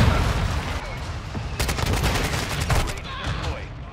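Pistol fire in Modern Warfare II on a Shipment lobby, a burst of rapid sharp shots starting partway through and clustering over a couple of seconds, loud against steady game noise with faint voice-like sound beneath.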